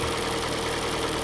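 A Kia Soul engine idles steadily just after its engine and transmission were installed, running without coolant, a loud continuous even rumble with slight mechanical ticking and no talk.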